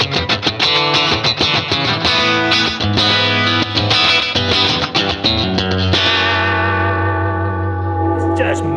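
Electric guitar played clean through a TWS 2864-S amp with delay, slapback and reverb, chiming sustained chords and notes ringing out with echo trails, loud and steady, settling into a long held chord near the end.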